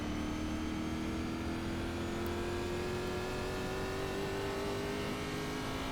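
Race car engine in iRacing at Nashville Superspeedway, pulling past the pace car: a loud, steady engine drone with a slowly rising pitch that holds for the whole stretch, with no voices over it.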